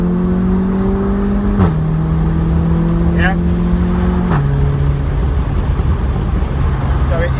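Low, steady exhaust drone from a SEAT Cupra 300 with its resonator deleted, heard from inside the car as a constant booming hum over road noise, with a brief voice and a couple of pitch drops.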